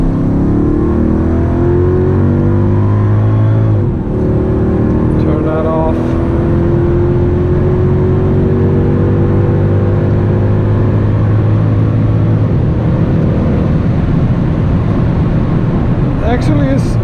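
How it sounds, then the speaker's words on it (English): Mercedes-Benz CLS 55 AMG (W219) with its supercharged M113K V8 revving, a loud close engine note climbing and falling in pitch through several sustained revs. "Now let's hear that engine first of all."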